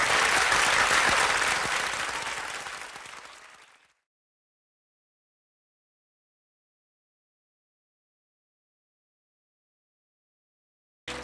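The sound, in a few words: crowd shouting and cheering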